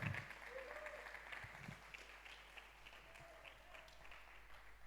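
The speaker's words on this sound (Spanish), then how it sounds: "Démosle palmas fuertes" A church congregation applauds during a Spanish-language sermon, a steady, faint wash of clapping with a soft hiss that keeps going without a break for several seconds.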